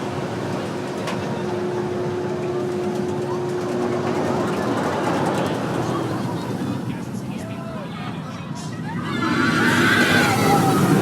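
Night ride in the front row of the Wrath of Rakshasa roller coaster at Six Flags Great America: a steady rolling rumble under a faint crowd murmur, swelling louder toward the end.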